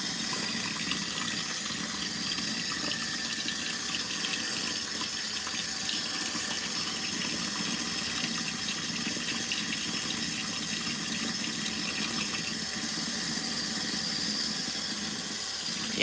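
LG ThinQ MEGA Ultimate washer filling with semi-cold water for its wash cycle, a steady, continuous rushing flow heard up close for a long stretch with no talking.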